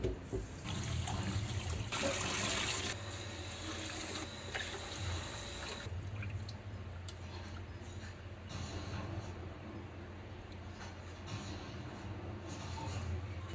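Rice is washed with water in a home kitchen before cooking, with running tap water, swishing and splashing in a pot, close and steady with brief louder gushes.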